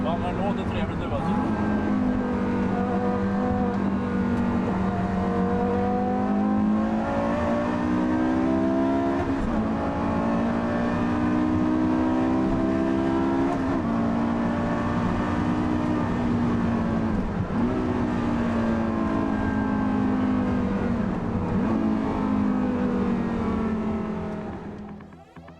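A ruby red older-generation Mercedes E63 estate with a 6.3 liter V8 races, its loud engine note rising through repeated gear changes with a deep, continuous roar that holds close throughout, while voices talk faintly underneath.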